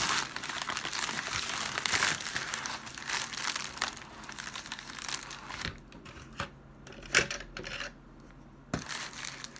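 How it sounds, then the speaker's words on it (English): A cardboard parts box of Quik-Latch hood pins being torn open along its perforations, with steady close crinkling and ripping that gives way to scattered sharp snaps and taps, no talking. "Gotta tear at the perforated marks"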